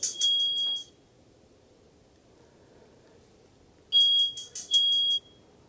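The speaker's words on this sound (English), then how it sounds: "Hear the alarm go off." A shrill electronic smoke alarm, set off by a blazing fire, beeps in a short burst, falls silent, then sounds again in two more bursts over a quiet background hum.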